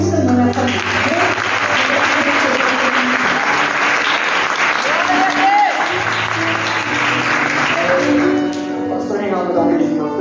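A church congregation claps hands in a dense, steady burst of applause that holds loud for about eight seconds before thinning out, with a few voices mixed in.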